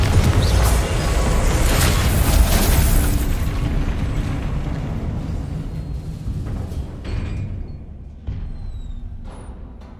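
Confringo fire spell blasts in the Hogwarts Legacy video game burst out loud and rumbling, with a thick, booming spread that slowly fades and thins over about ten seconds.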